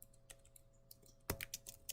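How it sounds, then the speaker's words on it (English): Fingers typing on a computer keyboard in a quiet room: scattered soft key clicks, then a sharper cluster of taps near the end. "3, type something. 4, hit the escape key."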